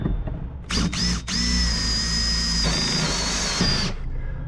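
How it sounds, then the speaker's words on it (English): A power drill bores straight through the timber of a wooden boat, giving a loud, steady high whine for about three seconds after a few short start-up bursts, then winding down. "I'm going to just drill straight through here."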